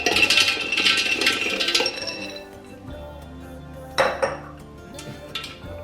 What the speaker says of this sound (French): Je vais rajouter des noisettes.